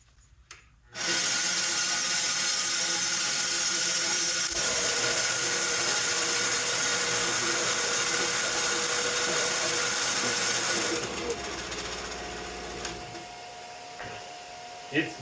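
A wood lathe spins up abruptly and runs with a loud, steady whirring drone for about ten seconds, then winds down to a quieter hum with a few knocks at the end.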